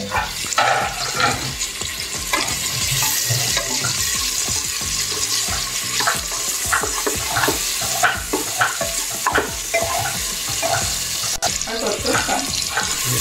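Onions frying for a quick biryani, with a steady hiss and repeated stirring scrapes close by and running water in the background.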